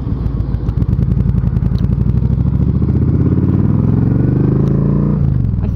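Motorcycle fitted with a 2-into-1 exhaust with a shark fin tip, running loud and close with a deep, throbbing rumble that rises as the revs climb, then drops off sharply near the end.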